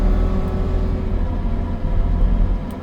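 Close and loud, the diesel engine of a Kubota 75-3 skid steer drones on continuously while the machine handles dirty base rock, with no talking over it.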